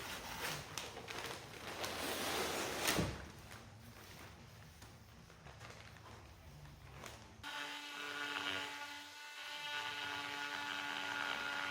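Oscillating multi-tool trimming excess fiberglass from a boat rudder, a steady buzzing cut held at moderate distance, with a sharp change in tone partway through as the blade moves along the edge.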